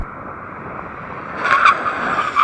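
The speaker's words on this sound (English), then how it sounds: "get ready for the brake test" A Tesla Model S Plaid brakes hard in a runway brake test, with steady road and motor noise that swells into a short tire squeal and skid near the end.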